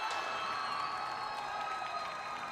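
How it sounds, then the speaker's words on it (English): A high school hockey arena crowd cheering after a goal by an 8th grader, heard as a steady, distant roar of many voices that holds level without sharp peaks. "And the crowd is fired up for the 8th grader."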